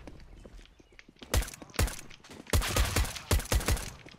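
Gunfire in a first-person shooter video game, coming as several sharp bursts of rapid shots with short gaps between them and faint background game noise in the quieter stretches.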